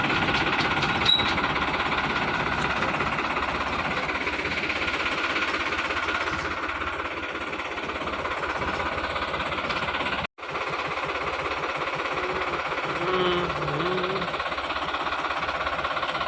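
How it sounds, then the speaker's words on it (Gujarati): A groundnut harvesting machine runs loudly and steadily with a rapid, hammering mechanical rhythm and tractor engine drone, continuous throughout apart from one brief dropout. "આને કંઈક મશીન કહેવાય છે માંડવી કાઢવાનું"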